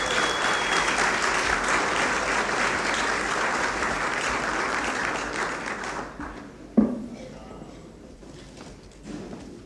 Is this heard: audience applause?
yes